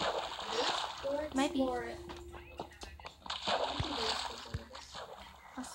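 Water flowing into a Minecraft mine from a nearby cave, heard as splashing and gurgling game water sounds under casual chatter between players.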